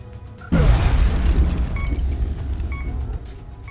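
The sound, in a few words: grenade explosion in XCOM video game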